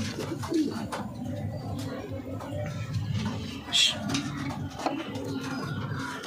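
Pigeons coo softly in a loft holding a male, a female and young birds, low murmuring calls running throughout under a faint background of voices.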